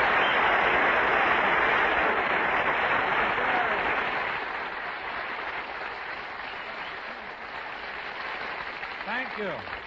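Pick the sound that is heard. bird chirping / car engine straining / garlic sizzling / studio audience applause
studio audience applause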